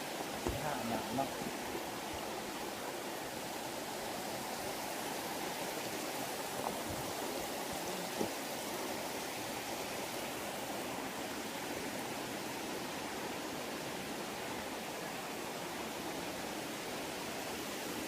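A waterfall at a Salavan province cave tourist site in Laos pours as a continuous, even rush of falling water, moderately loud and steady, with faint voices at times.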